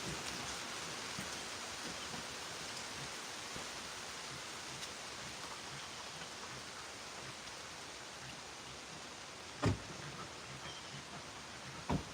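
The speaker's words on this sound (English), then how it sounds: "So it started raining right when I started talking." Steady rain falls on a farm, a dense even hiss throughout with a couple of brief louder knocks near the end, and no voices.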